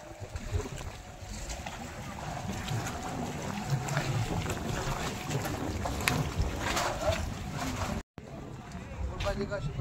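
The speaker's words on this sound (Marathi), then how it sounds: "स्पीड बोट आणि नॉर्मल पॅन्डल बोट सुद्धा आहे तिथे." Speed boats and pedal boats at a lakeside boating point, with steady broadband water and wind noise throughout, a brief dropout near the end, and people talking in the background.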